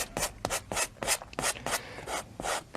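A paintbrush pressed hard against canvas fabric, working paint into the weave with a series of brisk, rhythmic scrubbing strokes, close and fairly loud with no talking.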